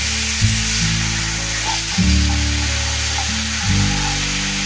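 Slit green chillies dropped into hot oil already holding turmeric and chilli powder, giving a steady close sizzle with bursts of louder frying as they hit the pan, no talk.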